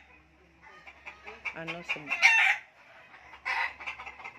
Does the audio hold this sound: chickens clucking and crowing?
yes